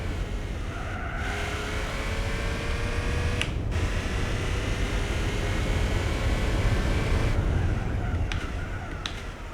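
A car engine in Gran Turismo 4 drones steadily like a cargo truck diesel, with gritty, constant noise and occasional sharp clicks, at moderate volume and without voices.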